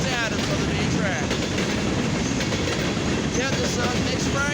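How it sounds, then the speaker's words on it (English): A westbound mixed freight train hauling grain and steel cars rolls past at about 29 mph, a steady loud rumble with rhythmic clickety-clack of wheels over rail joints and faint squeals, continuous throughout. "Yeah, this is a mixed freight, grain, and steel train"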